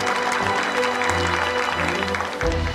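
Audience applause at a Korean national report meeting on advanced industries, a steady warm clapping from a crowd filling the whole moment, fairly loud and even with a tonal hum underneath.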